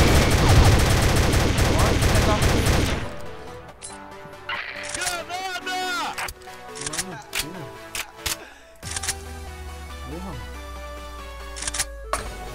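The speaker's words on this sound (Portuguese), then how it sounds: "é um tiro, foi um tiro que me acertou" Gunshots ring out in a shooting video game, a dense loud burst at first followed by scattered sharp shots and game effects, with a player speaking in between.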